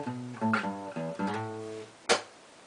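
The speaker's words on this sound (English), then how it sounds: "you wanna hit the guitar strings before you hit the chord" A guitar figure for a song: a few picked chord notes, then a sharp percussive slap on the strings followed by a short chord ring, quiet and close.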